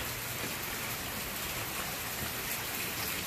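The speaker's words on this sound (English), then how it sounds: "It's raining a little bit out here" Light rain falling steadily outdoors among trees, a soft, even hiss of drops that holds constant at low volume with no talk.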